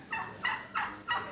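A turkey on a cattle farm gobbling four times in quick, evenly spaced bursts, fairly close and clear with no talk over it.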